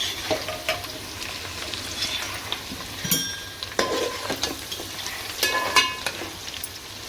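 Onion and capsicum frying in a pan: a close, crackling sizzle with intermittent sharp spatters and metallic clinks of a utensil stirring, no talking.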